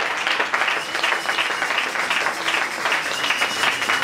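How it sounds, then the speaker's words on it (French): A church congregation applauds in steady, dense clapping that carries on evenly for a few seconds, loud and close, with no voices standing out. "Acclamez pour le Seigneur Jésus-Christ"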